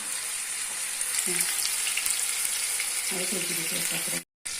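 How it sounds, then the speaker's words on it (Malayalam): Peri peri alfaham chicken frying in a pan, a constant close sizzle with bursts of spitting oil, brief clinks as pieces are turned, and a short gap near the end. "അപ്പോൾ ഒരു അഞ്ച് മിനിറ്റ് ഇതേപോലെ ഇരുന്നൊന്ന് മുരിഞ്ഞ് വരട്ടാൻ നമുക്ക് മറിച്ചിട്ട് കൊടുക്കാം"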